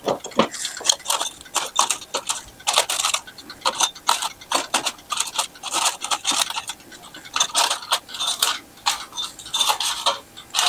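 Vegan vegetable spring rolls (lumpia) get flipped over while cooking, giving a run of light clicks, taps and scrapes of a utensil against the pan and food, fairly quiet and close, with no talking.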